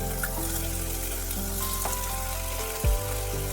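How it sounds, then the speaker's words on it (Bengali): Bitter gourd sizzling in hot mustard oil in a wok, a steady bright frying hiss with small pops and a brief louder burst near the end, close and alone. "তেল ভালো করে গরম হয়ে যাওয়ার পর দিয়ে দিতে হবে উচ্ছেগুলো।"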